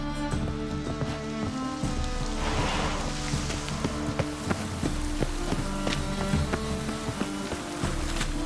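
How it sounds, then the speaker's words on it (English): Heavy rain pours in The Witcher 3: Wild Hunt on PS5, a loud, dense, continuous patter with steady drops and splashes, accompanied by a background game music drone and no talk. "It's raining buckets."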